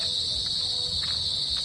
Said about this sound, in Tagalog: Naririnig nyo yung tunog ng mga ugangis ba tawag dyan, ganyang tunog.